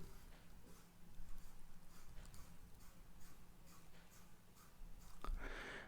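A Grand Seiko watch movement being wound by its crown gives a faint, rapid run of tiny ticking clicks, quiet and close, over a low steady background.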